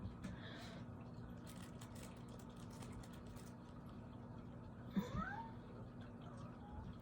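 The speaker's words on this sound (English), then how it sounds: "He's talking to the cats outside, I think." Cats meowing outdoors, faint and distant, with a few rising meows near the end over a steady low engine-like hum.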